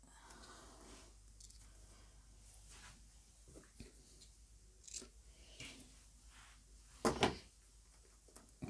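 Scissors trim excess material from a handmade journal, a few quiet snips and crisp cuts near the mic with a sharper burst near the end, against low room hiss and no talk.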